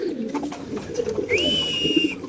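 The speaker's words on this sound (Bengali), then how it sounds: "দেখতে পাচ্ছেন বড় সাইজের মাদি কবুতর" A large female pigeon coos softly and repeatedly at a crowded pigeon market, its low murmuring calls mixed with background chatter and a brief high whistle-like tone.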